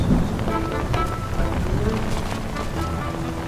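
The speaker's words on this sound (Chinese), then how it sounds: "怎么下雨了？" Steady rain falls in an ancient-costume drama scene, a dense continuous hiss of drops without pause across the whole moment, fairly loud and close.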